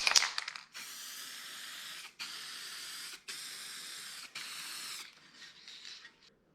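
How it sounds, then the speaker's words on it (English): Pearl gold paint hisses from a spray can in four steady bursts of about a second each, close and even, separated by brief gaps and followed by a few shorter, fainter sprays. "All right, one more coat."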